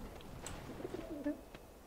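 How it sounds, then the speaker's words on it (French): Pigeons cooing inside the video game Alice: Madness Returns, a few soft, low, rounded coos over a quiet ambient background. "elle a l'air d'aimer les pigeons"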